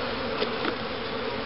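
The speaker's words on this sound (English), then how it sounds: "That's a fairly newly hatched bee." Honey bees buzz steadily during a hive inspection, a dense continuous drone close by with no break.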